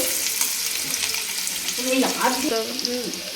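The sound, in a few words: chopped onion frying in a pan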